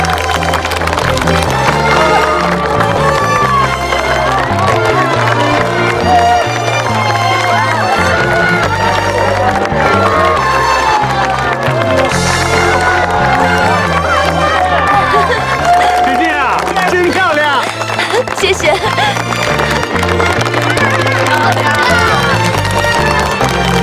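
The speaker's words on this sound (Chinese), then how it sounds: "让我们用最激动的心情和最热烈的掌声，欢迎我们漂亮的新娘出场" Wedding guests cheer and applaud as the bride makes her entrance, a loud, continuous crowd sound blended with music throughout.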